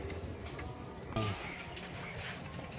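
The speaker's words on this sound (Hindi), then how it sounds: "ये एक लाखा कबूतर है जिसका मैं शौक करवा रहा हूँ।" A Lakha pigeon coos softly amid steady background noise, a brief low call standing out once near the middle.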